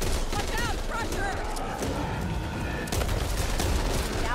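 Shotgun hip fire in Back 4 Blood on Nightmare difficulty, a run of loud blasts with zombie-horde game noise, heard under someone talking.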